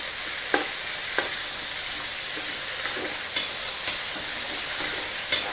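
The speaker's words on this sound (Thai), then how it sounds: "เป็นการทอดหมูสับก่อนนะคะ" Minced pork fries in a pan with a steady broadband sizzle, punctuated by several sharp clicks and scrapes of stirring at irregular intervals, close and moderately loud with no voices.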